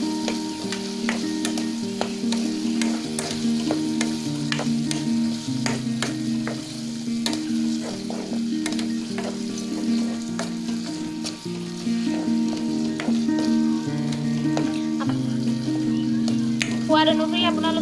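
Okra frying in spice paste in a pan, a continuous crackling sizzle with repeated scraping clicks of stirring throughout.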